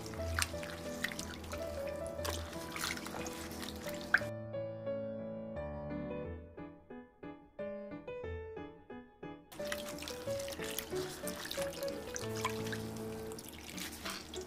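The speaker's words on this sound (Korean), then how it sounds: "물에 불린 엿기름을 손으로 바락바락 주물러서 엿기름물을 만듭니다" Soaked malt kneaded by hand in water for sikhye, with close wet squelching and dripping at the start and end and a stretch of music in the middle.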